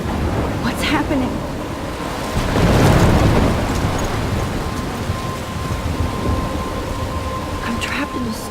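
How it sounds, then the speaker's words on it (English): A thunderstorm in the video game Life Is Strange: steady heavy rain pours throughout while a deep thunder rumble swells in the middle, loud and close, with no speech over it. "I'm trapped in a storm?"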